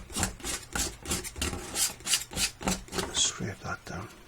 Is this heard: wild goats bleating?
no